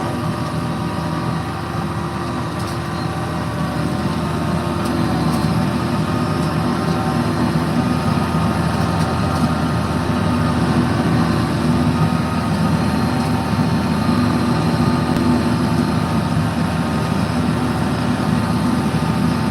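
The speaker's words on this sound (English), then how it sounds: "Emptying out the mix for the cattle." Tractor-driven feed mixer emptying cattle feed on a farm, a loud, steady low rumble of engine and machinery that drones on unbroken throughout, with no voices.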